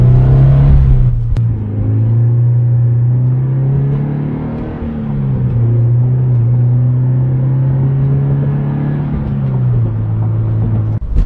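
A Subaru BRZ fitted with an aftermarket header accelerates, its steady loud engine drone holding one pitch, dipping briefly near the start and again late, with a sharp click at the outset and no talking.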